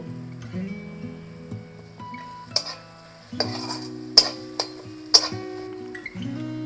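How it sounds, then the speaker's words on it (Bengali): Spice paste sautéing in a pan for a fish-head muri ghonto, a soft sizzle broken by sharp metal spatula scrapes and clinks against the pan, several distinct knocks spaced irregularly, close up. "মশলাটা কষানো হচ্ছে"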